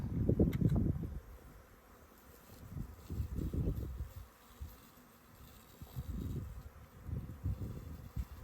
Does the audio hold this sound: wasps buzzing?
yes